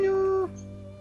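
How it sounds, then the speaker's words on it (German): A cat meows in the Minecraft video game, one drawn-out tonal meow that drops off midway, leaving a soft background tone behind it. "Ich höre eine Katze, die packt."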